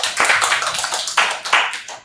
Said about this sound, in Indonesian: Oke, tepuk tangan buat Safira.